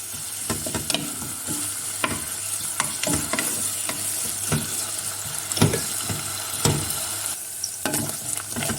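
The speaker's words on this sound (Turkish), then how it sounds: "kıymaları güzel şöyle iyice e, pişsinler, tıkır tıkır olacak şekile kadar kavuruyorum" Minced meat browns in a pan for soup, crackling and sizzling steadily while a utensil scrapes and stirs in frequent sharp strokes. No talking.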